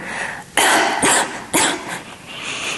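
A person coughs three times in close succession, loud and near, with brief breathy gaps between the coughs.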